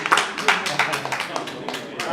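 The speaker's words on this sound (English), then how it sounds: "Please a round of applause for him." Scattered hand clapping from a small crowd at a birthday celebration, brisk irregular claps over about two seconds, fairly close.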